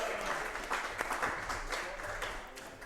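Audience applause at a high school football coaches' show broadcast from a burger restaurant, a steady dense patter of clapping that fills the short stretch at even loudness.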